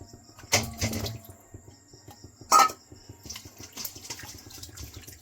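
Store-bought rasgulla sweets being washed by hand in a basin of water for rasmalai, giving soft splashes and sloshing with a couple of brief louder swishes, close and quiet, and no talking.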